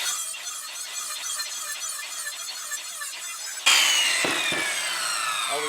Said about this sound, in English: I'm just going to be cutting notches because I want to notch these.